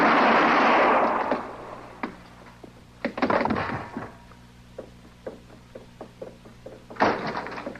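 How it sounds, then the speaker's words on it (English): Sharp gunshot cracks in an old-time Western radio drama: a loud blast near the start, another around three seconds, then a string of lighter taps and a final strong crack near the end, with no voices. "I heard them shots."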